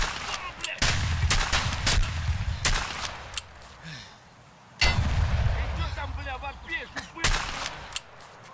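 Chiappa Rhino revolver fired in the video game Escape From Tarkov at a target wearing class 3 armor: several loud, booming shots in separate bursts, each followed by a brief decay and quieter gaps.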